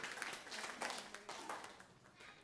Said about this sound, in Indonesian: Tepuk tangan bagi Tuhan dulu.